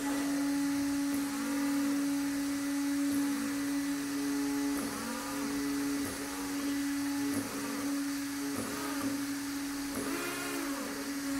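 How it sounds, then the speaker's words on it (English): Racerstar 3650 brushless motor (2050 KV) driven from a servo tester, holding a steady high-pitched electric whine with a strong constant tone, and short rising spin-up sweeps at several points across the stretch. "So let me go ahead and turn on the throttle on the servo tester."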